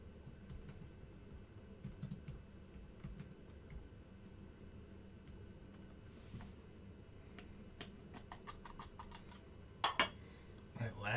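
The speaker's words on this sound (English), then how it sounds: "I'm trying to type one-handed." Someone types one-handed on a computer keyboard, producing quiet, irregular clusters of key clicks up close, with a couple of louder clatters near the end.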